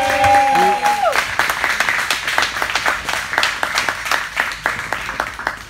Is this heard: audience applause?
yes